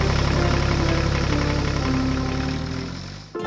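A tractor engine runs steadily on the way to a field for soil cultivation, a loud, continuous mid-pitched idle-like drone with a faint knocking pulse that holds nearly constant before a brief dip at the very end.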